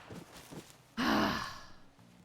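A horse in the RedM video game lets out a sudden loud snorting exhale after soft breathy sounds, a single close blast that fades over about a second.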